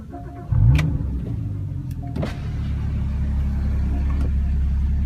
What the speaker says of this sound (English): insert the key to the left hand side and turn it to start.